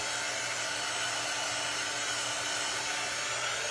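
Hair dryer blowing steadily on a small handmade craft piece, a continuous close, loud airy whoosh with a low motor hum, no voices.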